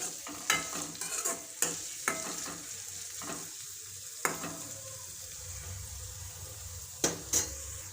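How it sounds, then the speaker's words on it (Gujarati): Schezwan fried rice ingredients sizzle in hot oil in a pan while a utensil stirs and scrapes, giving sharp periodic clinks over a continuous soft frying hiss, with no talking. "બે મિનિટ આપણે તેલમાં સતણાવા દેવાનું છે।"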